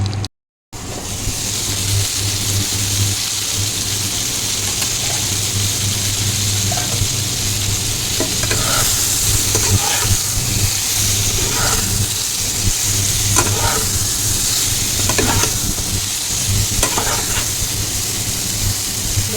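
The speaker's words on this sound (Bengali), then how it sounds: "বেগুনটা এখন একটু ফ্রাই করে নেব।" Eggplant fries in a pan with a loud, continuous hiss and sizzle, a steady low hum underneath and scattered sharper crackles and spatters, after a brief silent gap at the start.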